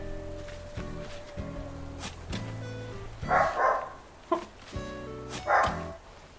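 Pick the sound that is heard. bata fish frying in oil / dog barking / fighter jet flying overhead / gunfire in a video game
dog barking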